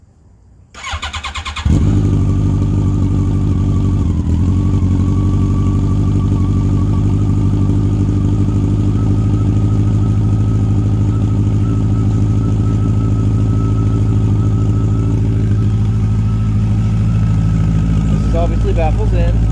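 A Yamaha FJR1300 motorcycle with a modified 4-2 header and true dual exhaust, baffles in, fires up and settles into a steady, loud, close idle that runs without a break.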